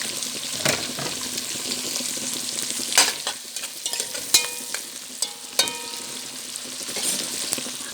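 Shrimp frying in a pan with onion and garlic, a steady broadband sizzle with scattered stirring scrapes and a few sharp clinks, close and fairly loud, no talking.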